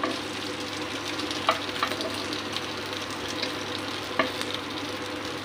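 Turnip cake made with radish fries steadily in hot oil in a pan for breakfast, a continuous close sizzle with a few soft clicks and spatula taps, with no talk over it.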